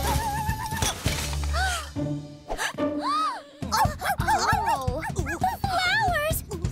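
An animated cartoon dog whimpers with high, wavering whines and gives short yipping barks in quick bursts, close and loud, mixed with character voices speaking around it.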